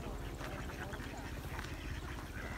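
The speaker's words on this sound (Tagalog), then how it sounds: "Oo, daming itik." A crowd of ducks in a farm field quacks in a busy, overlapping chorus at moderate distance, with a voice talking over the flock.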